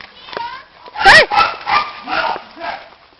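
Puppies yip and bark in a short burst of high, close calls. Someone talks over them, calling them to come.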